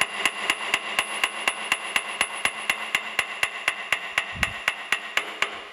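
A hammer strikes a gear box part on a Landis surface grinder to bump it into place, giving about twenty-five sharp, evenly spaced metallic blows in quick succession, close and loud, with no talking.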